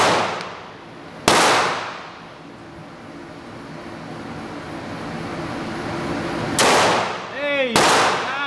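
Walther PPX pistol firing at a target outdoors: three sharp, loud gunshots spaced several seconds apart, each followed by a ringing ping of the hit target, with quiet outdoor air between shots.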